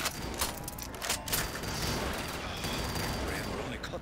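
Rapid gunfire in Black Ops 3 custom zombies on the Fish Tank map, with a double-tap-upgraded weapon firing in dense continuous bursts over busy game noise for about four seconds.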